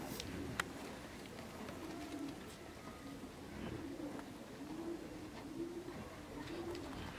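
Soft, repeated cooing of small, very light racing pigeons in a steady rhythm, fairly faint against a low background hiss with a few small clicks.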